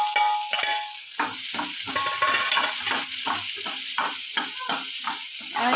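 Chopped onion with green chillies fries in very hot oil in a pan, a constant sizzle broken by regular scraping stirs of a spoon, close and fairly loud with no talk.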